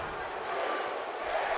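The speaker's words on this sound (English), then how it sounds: "We got the New Day Rocks chance as well going from the crowd." A virtual arena crowd in the WWE 2K17 wrestling video game chants 'New Day Rocks', heard as a continuous, dense roar of massed voices at even loudness with no clear pauses.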